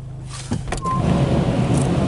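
A PDQ Laserwash 4000 automatic car wash in poor condition runs outside the car, a muffled steady low rumble and spray heard from inside the cabin after a brief quiet start, with no talking.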